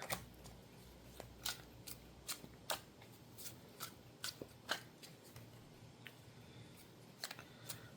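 Cards being shuffled close up in quiet, a series of crisp riffling snaps and flicks at irregular intervals.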